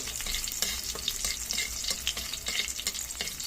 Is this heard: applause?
no